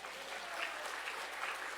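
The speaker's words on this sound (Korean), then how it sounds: "우리 박수 한번 칠까요?" Church congregation at a revival service applauding together, a soft, even wash of many hands clapping heard from some distance, steady and sustained with no talking over it.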